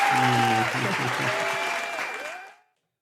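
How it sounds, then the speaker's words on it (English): A canned applause sound effect played during a podcast, a short burst of crowd clapping with a tonal ringing layer that fades out and cuts to silence after about two and a half seconds. "let me put some claps"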